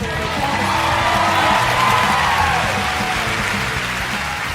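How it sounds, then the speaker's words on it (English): A stand-up comedy audience bursting into loud, sustained applause mixed with cheering and whoops, a dense crowd roar filling the whole stretch. "Applaud if you're over"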